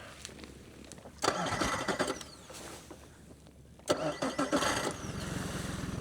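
A boat engine is cranked twice. Each time it catches with a sharp burst of starter and motor noise, runs briefly and cuts out abruptly. The second start is followed by a rougher running sound toward the end, all fairly close.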